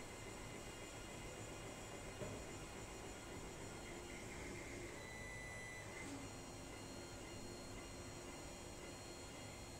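Ender 3 3D printer running on its original motherboard, giving a faint, steady whir and fan hiss with soft stepper tones throughout, heard alone with no talk.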